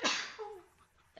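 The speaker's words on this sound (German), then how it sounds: "Entschuldigung, da musste ich eben niesen." One sharp, close human sneeze with a quick forceful burst, followed by a short breathy tail and a faint sniff at the end.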